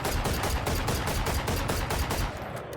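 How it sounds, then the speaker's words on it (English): The Guardian rifle in the shooter game Valorant fires rapidly, about a dozen loud, evenly spaced shots in quick succession with no pause, alone without talk. "if I spam the Guardian as fast as it'll fire at this target"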